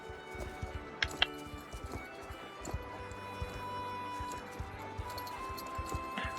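A horse trots in a first-person horse-riding video game, its hoofbeats faint and steady in a quick rhythm over a low background hum, with a few sharper knocks now and then.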